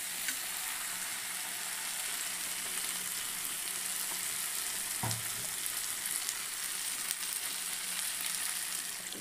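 Fried potatoes and spices sizzle steadily in a pan as a continuous, moderately quiet hiss, with one brief low splash partway through as water goes in.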